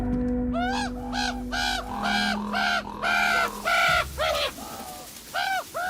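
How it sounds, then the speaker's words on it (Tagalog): A crow caws repeatedly just outside a bedroom window, loud and close, in a run of harsh, evenly spaced calls with short gaps, over a low background hum that drops away partway through. "nakakagulat naman tong uwak na to"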